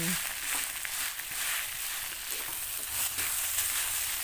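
Cooked rice and meat stir-fried together in a pan for fried rice, giving a steady, close, dense sizzle with faint scraping of the spatula throughout and no talking.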